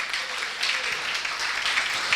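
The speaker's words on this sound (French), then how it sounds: "On peut applaudir à la gloire de Dieu." A church congregation applauds, many hands clapping in a steady, moderately loud patter, with scattered voices faintly mixed in.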